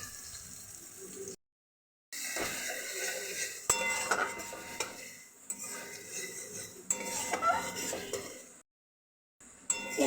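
Chopped capsicum being sautéed with masala in a pan: metal utensil scraping and clinking against the pan in bursts, with soft sizzling and short pauses of silence between stirs.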